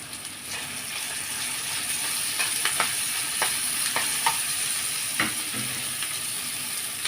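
Peppers sizzle steadily in a hot pan with onions for shawarma, while a utensil stirs them with a series of sharp scraping clicks and knocks.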